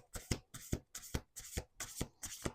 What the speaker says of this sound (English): doing 2 more shuffles